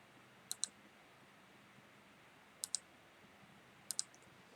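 A computer mouse clicks during work in measurement analysis software, three quick double clicks spaced evenly apart, close and faint against a quiet room hum.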